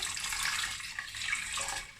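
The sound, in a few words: pouring red elderberry liquid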